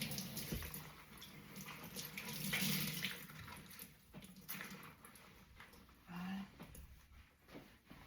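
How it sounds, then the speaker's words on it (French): Kitchen tap water running into a sink during rinsing, a steady soft splashing flow with a few clatters and shifts in the stream, fairly quiet and close. "Je vais rincer."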